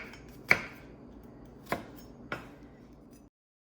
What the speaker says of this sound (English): we're gonna chop up our vegetables. So we're gonna use 1 large onion